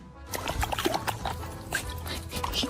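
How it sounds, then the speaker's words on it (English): A Malinois dog lunges and snaps at swimming pool water, giving close splashing, slurping and gulping sounds with wet chomps and sloshes in quick, irregular bursts. "Trying to bite a swimming pool is peak Malinois logic."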